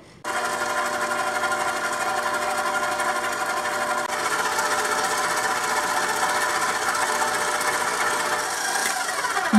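An electric mixer beats butter, sugar and egg yolks for a vanilla sponge cake batter, a loud continuous whirring drone that holds steady for several seconds with no talking.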